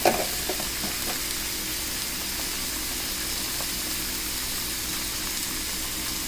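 BBQ pork chops frying in a pan on a stovetop, a steady close sizzle and hiss that stays even throughout, with a brief stir or clatter at the start and no voices.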